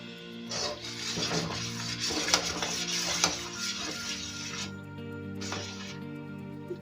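Milk thickened with cornflour for homemade vanilla ice cream is stirred in a pan, a steady scraping swish with a constant low hum and a few sharp clinks of the spoon against the metal.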